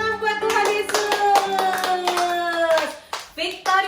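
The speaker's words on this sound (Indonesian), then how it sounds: "Kasih tepuk tangan buat Tuhan" Children and adults clap together at a kids' church service, a brisk run of rhythmic hand claps that fades into scattered claps, with voices singing and speaking along.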